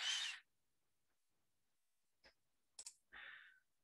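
A computer mouse gives a few faint, sharp clicks, a single one and then a quick pair, in a very quiet room, set between short bursts of soft hissing noise.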